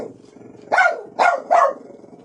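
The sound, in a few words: dog barking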